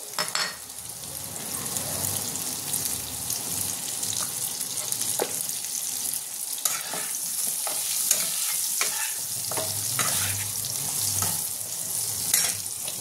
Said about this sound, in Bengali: একটু লাল করে ভেজে নেবো আলুটা আমি।